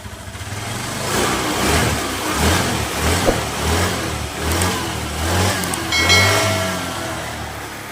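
A motor scooter engine, a Honda Vario, runs steadily at idle after about ten minutes of running, a continuous mid-pitched hum with slight rises in revs, close and fairly loud.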